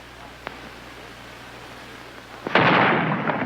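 A coastal artillery gun firing on a small target at sea. A faint thump comes early, then a loud, distant boom breaks in and rolls on as a sustained roar, with no talking.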